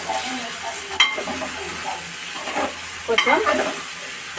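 Crabs sizzling in hot oil in a pan for a curry, with a spoon stirring and scraping through them in a few sharp clinks; a voice speaks briefly over the steady frying hiss.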